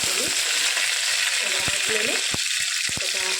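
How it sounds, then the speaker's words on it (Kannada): Green chillies and curry leaves frying in hot oil for a hotel-style rice bath, a loud dense crackling sizzle filling the whole stretch, with a few clinks of a stirring utensil on the pan. "ಫ್ರೈ ಮಾಡ್ತೀನಿ"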